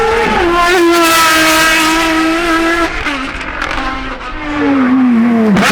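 A Ferrari FXX race car engine at the Goodwood Festival of Speed, a loud, close, high-pitched wail holding revs, dipping briefly as it shifts, then climbing and falling again as the car passes.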